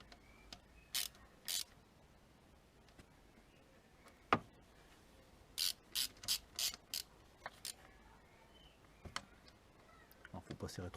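Torx T20 screws being tightened on a VW Golf 3, with a dozen or so short ratchet-like clicks arriving singly and in quick bursts, close by, over a faint background hiss and no talking.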